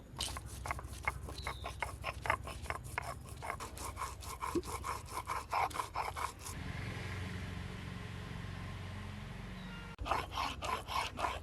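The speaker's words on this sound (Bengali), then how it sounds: "এখন বেটে নেব শুকনো মরিচ" Dried red chillies are ground on a traditional stone, giving a rhythmic back-and-forth scraping and rubbing. It is close but fairly quiet, pauses briefly in the middle, then resumes.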